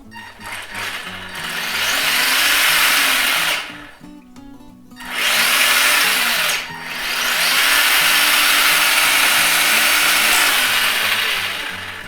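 A standard servo in a Tamiya DF-02 RC car spins with a loud, steady electric whir, sustained for several seconds at a time with two brief pauses in between.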